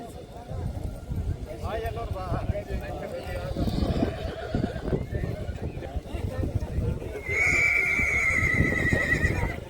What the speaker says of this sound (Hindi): देख सकते हो सामने से अच्छे घोड़े आ रहे हैं।